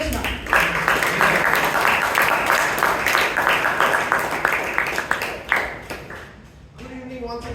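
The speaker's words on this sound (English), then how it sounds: "Can we have a loud round of applause" A room full of people at a Toastmasters meeting in Bangalore claps for several seconds, loud and dense, then fades as a voice begins speaking.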